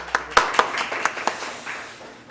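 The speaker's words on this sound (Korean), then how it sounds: "박수 한번" At a freshman orientation for a chemical engineering department, a handful of people clap sparsely, about six sharp, separate claps near the start, then fade into a quiet room.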